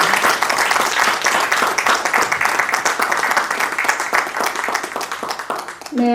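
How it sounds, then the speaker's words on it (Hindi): Audience applause at a poetry evening in Jaipur, dense sustained clapping from a large crowd filling the whole stretch at a steady level, with a voice coming in briefly at the very end. "जोरदार तालियां हो जाए"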